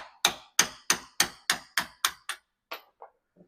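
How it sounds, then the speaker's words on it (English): Hammer striking a brass punch to drive out a brake shaft from a Yamaha TTR125 rear drum brake, about ten sharp, evenly spaced metallic blows that fade and slow toward the end. "So I'm going to use a brass punch on there and just finish tapping this out."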